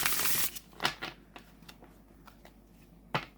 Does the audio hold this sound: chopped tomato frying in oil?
no